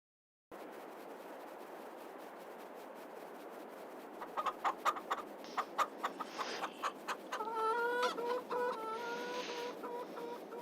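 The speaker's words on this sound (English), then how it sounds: "Cock-a-doodle-doo." Rooster in a farming video game, a series of rhythmic clucks followed by a drawn-out crow, clear and fairly close over a steady background hiss.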